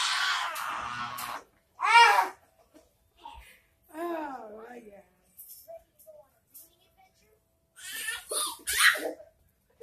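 A sneeze bursts out amid children's babbling and scattered giggles, with brief talk between the louder outbursts in a busy room.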